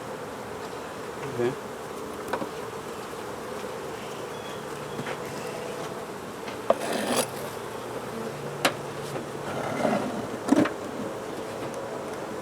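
Honeybees buzz around an opened hive in a dense, continuous drone, with individual bees whining close past now and then. Occasional clicks and knocks from handling the hive cut through, and one brief spoken word is heard.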